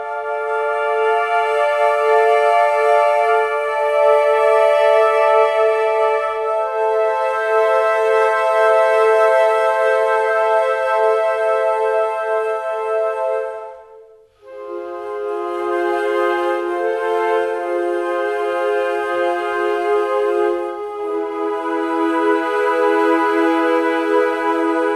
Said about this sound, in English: So the high winds sound like this.